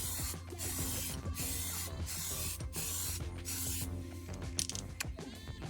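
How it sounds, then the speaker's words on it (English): Aerosol spray paint applied to an old computer case, with short hissing bursts repeating about once a second, then a quicker run of spray near the end, heard close over low background noise. "I've got an old computer case and we'll just give it a spray."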